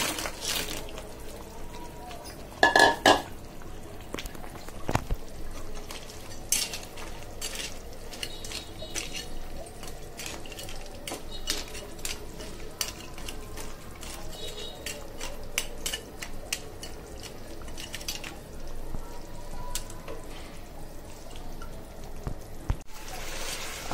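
Fried crabs stirred into a thick cooked-down masala in a pan for crab bhuna: steady metallic scraping and clinking of a spoon against the pan, close and continuous, with a few sharper clatters and no talking.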